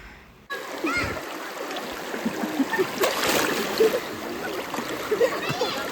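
Children jump into water at an outdoor pond on a sunny day, with scattered splashes and sloshing over a constant stream-like wash, while kids' voices chatter in the background.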